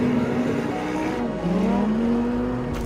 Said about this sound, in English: we have a natural aspirated V10 engine